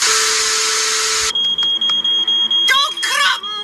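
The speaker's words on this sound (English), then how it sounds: "Norman makes the fire alarm go off." A smoke-style fire alarm from the Fireman Sam cartoon shrills loud and steady, then falls into rapid repeated electronic beeping with higher chirps breaking in near the end.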